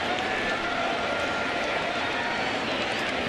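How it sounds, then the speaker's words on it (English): Baseball stadium crowd at a Washington Nationals versus New York Mets game applauding a catch at the outfield wall, a dense, steady wash of clapping and cheering that fills the whole stretch. "Applause all around."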